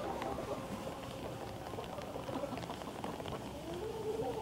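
Outdoor rain falls steadily around wooden furniture, a dense patter of drops with a continuous hiss and no speech.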